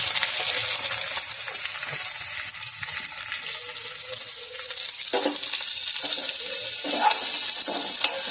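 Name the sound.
onion frying and being stirred in a pan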